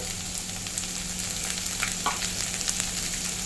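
Chopped onions and green chillies sizzling in a pan for idli upma, a steady close frying hiss with light stirring scrapes and a low hum underneath, no talking.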